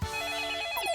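A telephone rings with a bright, trilling electronic bell tone, one short burst heard close and clear with no talking.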